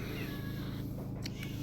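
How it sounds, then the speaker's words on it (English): A talkative pet cat gives a couple of short meows in the background, faint and brief over a steady low hum. "that's my cat you hear in the background."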